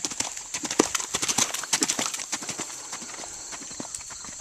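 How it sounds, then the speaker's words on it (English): Hooves of a horse cantering in an arena drum out a quick rhythmic clip-clop, fairly close and clear, fading slightly toward the end. "Keep cantering. Canter forward away."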